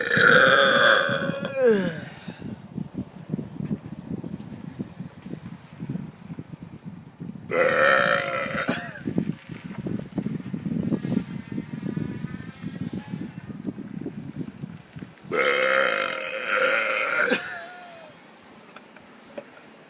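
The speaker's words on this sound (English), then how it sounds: "I'm still burping." Three loud, long burps come in separate bursts, with a person talking in between.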